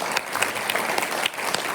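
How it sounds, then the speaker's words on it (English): Applause from a general-meeting audience, a steady dense patter of many hands clapping throughout, moderately loud and without talk. "Well, let's give another round of applause."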